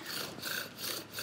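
A wooden fire drill spins against a hearth board to make an ember, giving a steady back-and-forth rasping rub in quick, even strokes, close and moderately loud.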